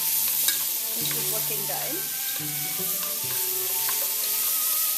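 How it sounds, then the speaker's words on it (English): Mushrooms frying and browning in a pan, a steady sizzle with occasional stirring scrapes, close by, as a voice remarks briefly. "And so the mushrooms are browning up."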